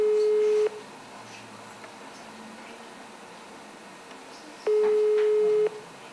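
Two long, steady busy-signal tones on a telephone line, each about a second, separated by a few seconds of quiet hiss, as a call to a Gyumri council member goes unanswered.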